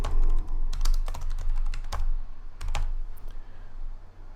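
Someone types a campaign name on a computer keyboard, a close burst of quick, uneven key clicks in small clusters with brief pauses, alone without talking.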